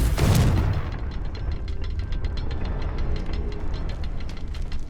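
A loud fiery blast from the Confringo spell in Hogwarts Legacy bursts at the start, then trails into a sustained rumbling, crackling roar.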